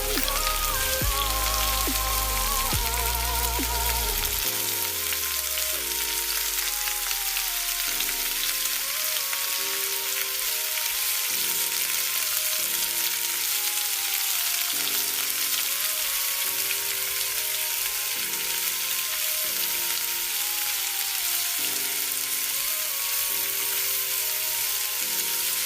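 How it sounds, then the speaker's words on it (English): Mandazi dough pieces deep frying in vegetable oil, giving a steady, loud bubbling sizzle that runs on throughout, with background music over it. "now it's time to deep fry these pieces"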